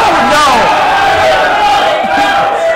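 Spectators at a Smash 4 singles tournament match calling out and shouting together, a loud sustained crowd roar with overlapping voices and yells, close and continuous throughout.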